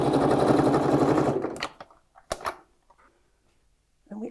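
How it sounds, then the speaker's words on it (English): A sewing machine stitches around a reversible vintage clutch bag in one loud, steady close-up run that stops after about a second and a half, followed by a few scattered clicks and handling sounds. "we're just going to stitch all the way around here"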